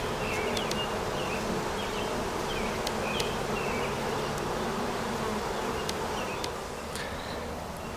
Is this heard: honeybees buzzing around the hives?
yes